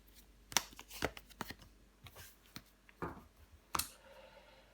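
Tarot cards are handled, one card laid over another, producing quiet close papery slaps and flicks in a few sharp bursts separated by soft rustling, with no talk.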